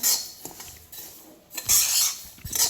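Sesame seeds dry-roasting over medium heat in a pan, stirred with a spoon: close, dry scraping and rasping strokes with light metallic clinks, in bursts of stirring.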